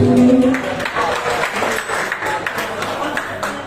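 Audience applause at an outdoor concert in Kemer, Antalya, loud at first and then thinning into scattered claps, with crowd murmur and some voices mixed in.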